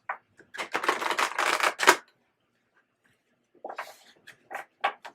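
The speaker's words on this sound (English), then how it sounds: "I'm going to shuffle one more time for you guys." A deck of tarot cards being shuffled by hand gives two bursts of crisp, close riffling, the first about two seconds long, then a silent gap before a shorter, patchier run of card flicks.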